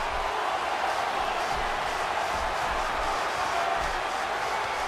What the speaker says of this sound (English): Would you listen to this crowd show their appreciation for these amazing...